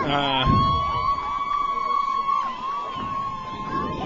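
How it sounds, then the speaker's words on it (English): Crowd noise at a high school regional championship football game as the Bearcats run to their sideline: a steady roar of cheering fans with a sustained tone running through it and a voice talking over the top. "Bearcats running to their sideline to cheering fans"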